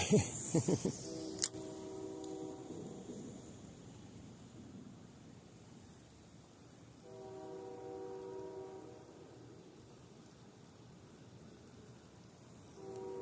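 A distant train rumbles past with two long horn blasts, one near the start and another midway, over quiet outdoor ambience by a creek.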